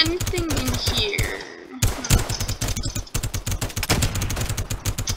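Rapid bursts of .50 cal gunfire from the Roblox game Gun Testing, dense repeated sharp cracks in fast rhythm with a short pause partway through, loud and up close.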